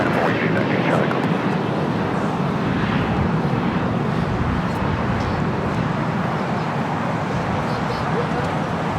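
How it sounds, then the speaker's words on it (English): A French Bee flight 730 airliner operated by Air Caraibes Atlantique rumbles steadily at LAX, a loud, continuous broadband engine roar that holds evenly for the whole stretch, with talk present over it. "So this is French B, flight 730. It's being operated by Air Caraibes"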